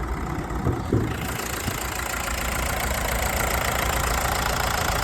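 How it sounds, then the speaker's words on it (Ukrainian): The 110-horsepower K9K diesel engine of a 2012 Renault Megane 3 idles steadily and close up, a continuous broad rumble with a rough, knocking texture and no talking. "Моторчик гарний, де працює добре."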